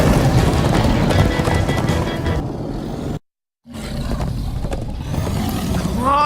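Horses galloping in the Minecraft: Story Mode video game, a dense rush of hoofbeats with roaring, rumbling action sounds. There is a brief silent gap midway, then the galloping resumes with whooshing effects.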